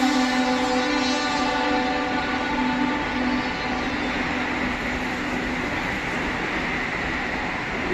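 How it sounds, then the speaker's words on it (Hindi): A Vande Bharat Express train overtakes a stationary Etawah-Tundla MEMU local train, producing a loud, steady rail rumble with a sustained humming drone that fills the whole stretch without letup, and no voices. "ये भारत एक्सप्रेस ओवरटेक करने वाली है अपनी इटावा आगरा मेमू को, इटावा टुंडला मेमू को।"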